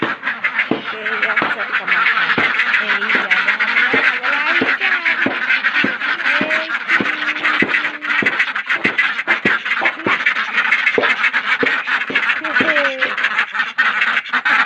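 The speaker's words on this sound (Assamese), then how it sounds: "এতিয়া হাঁহ চাবলৈ গৈ আছোঁ হাঁহখিনিক দানা দিম অকণমান পিছত" A flock of domestic ducks quacks steadily and nearby just before being fed grain at home, with harsh repeated calls over a constant busy background and a voice talking at times.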